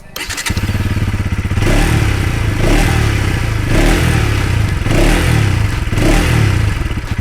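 A Bajaj NS200 BS6 motorcycle fires up and revs, its suppressed, sporty exhaust note rising and falling in several close, loud throttle blips with a thudding low pulse.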